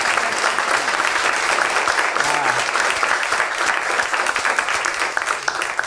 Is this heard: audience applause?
yes